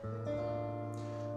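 Two sustained chords from a backing track for scale practice ring out one after the other, the second entering soon after the first, clear, steady and alone.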